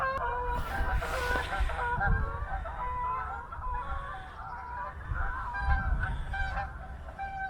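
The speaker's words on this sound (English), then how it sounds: "See if I can show you the geese." Geese honk repeatedly by a frosty river in a rough, overlapping chorus of nasal calls at a moderate distance. Steady wind or ambient rumble sits underneath.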